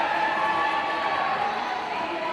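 Crowd cheering at a live volleyball match between Grace and Taylor, a steady dense roar of many voices filling the gym throughout, loud and continuous.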